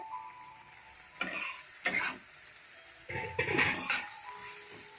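Topse fish frying in a pan with softened fried onions, a steady sizzle broken by several louder bursts of stirring and pan scraping, close and alone without talk.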